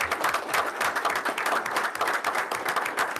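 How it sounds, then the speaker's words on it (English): An audience at a Muncie Central school board meeting claps for an honored senior, a dense, even patter of many hands filling the room at moderate loudness without a break. "we can clap for Jocelyn"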